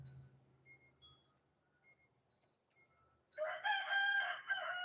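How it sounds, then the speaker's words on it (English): Quiet background at first, then a rooster crows loudly and close by, one long harsh call ending the stretch. "I'm sorry you're hearing my rooster going crazy"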